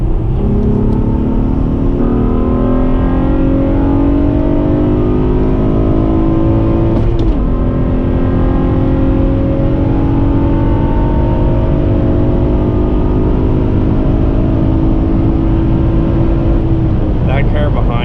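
A car engine drops its revs as the driver lifts off the throttle, the drone gliding steadily lower in pitch. It stays loud and close, with a brief clunk partway through before the tone settles and keeps sinking.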